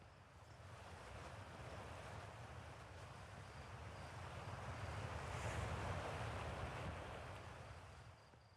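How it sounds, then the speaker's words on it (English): A geyser erupts in the Outer Wilds video game, a steady broadband rushing hiss like wind or surf that swells to a louder peak midway and then eases off, with no talking. "Oh, that's a geyser."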